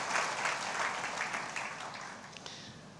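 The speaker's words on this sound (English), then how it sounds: "Can we give her a round of applause?" An audience gives a speaker a round of applause, a steady wash of clapping that tapers slightly toward the end, heard without any voices.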